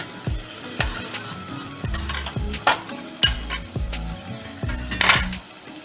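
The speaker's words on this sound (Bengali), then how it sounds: "আর এটা আমি বাটনাটা তেলের মধ্যে দিয়ে দিচ্ছি এক চামচ মতো জল দিয়ে দিলাম যাতে মশলাটা পুড়ে না যায়" Cumin-ginger spice paste with a spoonful of water, plus turmeric, sizzles in hot oil for a fish curry, with repeated scraping stir strokes in an uneven rhythm and a few louder bursts of spitting over a steady fry.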